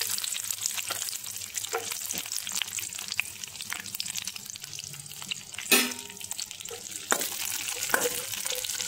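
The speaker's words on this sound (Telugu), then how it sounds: "నెయ్యిలో వేయించుకోవాలి దోరగా." Cashew nuts sizzle steadily in hot ghee in a pan, a close continuous frying hiss with occasional scraping stirs and a couple of louder clattering bursts of the spoon.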